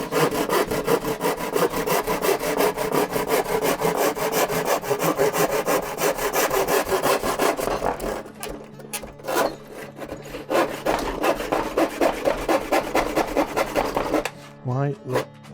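A hand saw cuts through wood on a bench in fast, rhythmic back-and-forth strokes, close and loud, pausing briefly partway through before resuming, then stopping near the end; a person breathes audibly between strokes.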